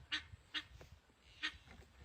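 Ducks and geese honk and quack close by on a small backyard flock in the United States, three loud harsh calls with fainter ones between, no talking.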